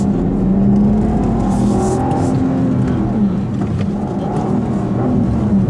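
A 2015 Volvo V60 T6 in sport mode accelerates hard from a standstill, heard from inside the cabin as a loud, sustained engine drone whose pitch climbs and then shifts between gears.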